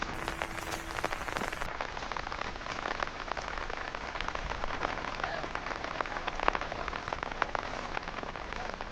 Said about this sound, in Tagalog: Oo, ulang-ulan naman yan ninyo ngayon.